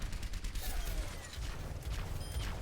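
Continuous gunfire from a weapon in the video game Overwatch, a dense, sustained rattle of rapid shots that runs loud and unbroken the whole time, with mechanical clicks layered over it.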